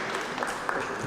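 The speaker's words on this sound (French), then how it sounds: "on l'applaudit s'il vous plaît" An audience at a public debate on secularism applauds briefly, a soft, steady patter of many hands with no talk over it.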